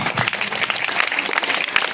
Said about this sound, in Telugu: Give a big clap.